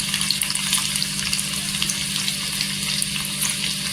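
Garlic hits hot oil in a pan for a Kolhapuri chili thecha, giving a continuous crackling sizzle with bright popping that stays steady and close, no talk.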